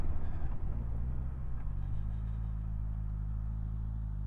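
Steady low engine rumble from a 2024 Suzuki GSX-S1000GX motorcycle ridden slowly toward a junction, louder and rougher at first, then settling into an even, continuous drone.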